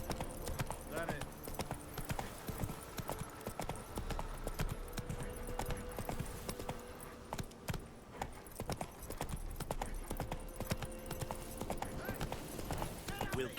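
Geralt's horse Roach clip-clops steadily across terrain in The Witcher 3: Wild Hunt, a continuous run of hoofbeats at moderate loudness with game ambience and voices talking over it.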